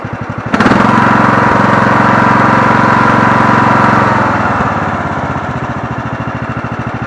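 A Murray Select riding lawn mower with a 17.5hp engine and 42-inch deck idles close by, a loud steady chugging putter that starts abruptly and then settles slightly quieter toward the end.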